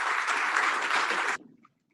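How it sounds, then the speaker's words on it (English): Audience applause for panelists at the end of a panel on OTT policy and regulation, a dense burst of clapping that stops abruptly and leaves near silence. "to our panelists, another round of applause."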